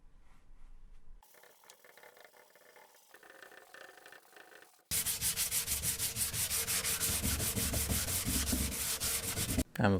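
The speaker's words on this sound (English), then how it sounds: "I'll sand it down again just to cover in the holes and make it smooth" Sandpaper rubbing over wood filler on a wooden chest of drawers, a steady rhythmic back-and-forth scraping that starts faint and sparse, then turns loud and continuous after a few seconds.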